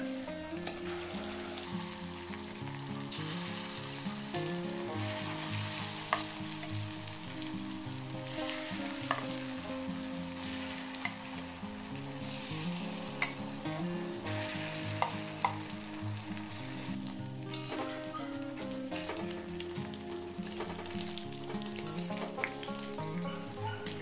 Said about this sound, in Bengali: বাকি চিকেনগুলো ভেজে নিতে হবে।